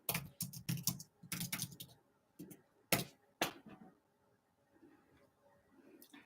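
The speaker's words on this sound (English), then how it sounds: "I'm going to type in my names as well" Bursts of computer keyboard typing as names are entered, with clustered key clicks, short pauses and a few isolated taps, close and fairly quiet.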